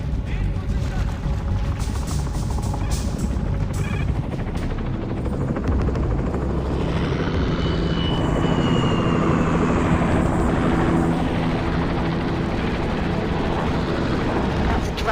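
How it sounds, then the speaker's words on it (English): A Dracon-class attack helicopter in a video game roars loudly and continuously, rotor thump and engine whine filling the scene, with a dramatic swell partway through. "That's a Dracon-class attack helicopter."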